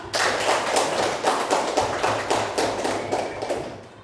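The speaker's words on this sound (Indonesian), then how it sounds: "Tepuk tangan buat Sira." Sixth-grade pupils in an Islamic education classroom applaud a classmate with brisk, dense clapping that rattles on evenly for about four seconds before tapering off.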